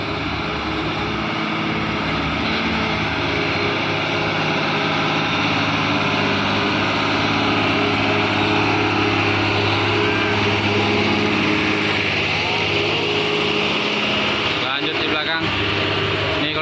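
The engines of a palm oil truck and a coal truck rev uphill in a loud, continuous diesel roar that holds steady throughout. Someone talks over the engine noise.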